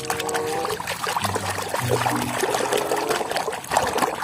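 Water pours and trickles steadily, close by, over a toy animal being washed, with splashing and some low tonal sounds underneath throughout.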